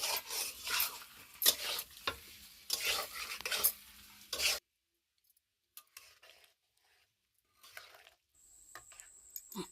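Chicken curry being stirred in a pan, a spoon scraping and rubbing with some sizzle in bursts for the first few seconds, then near silence broken by faint clinks and small kitchen sounds.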